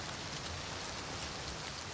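Steady, faint rain hisses evenly in the game Oblivion Remastered, a soft continuous patter with no voices or other sounds.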